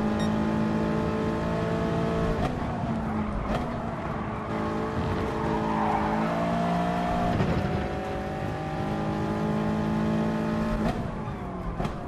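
A Toyota 86 Gr. 4 race car in GT Sport laps the Brands Hatch GP Circuit, its engine droning steadily at high revs with gear-shift pitch changes and faint tire noise, loud and continuous.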